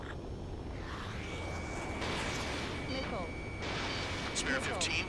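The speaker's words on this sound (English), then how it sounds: "Let's bet how much damage we can do with just machine guns." Rapid machine-gun fire from a fighter jet in the flight combat game Ace Combat 7, heard as dense rattling bursts over a steady engine roar, with game sound effects and talk over the top.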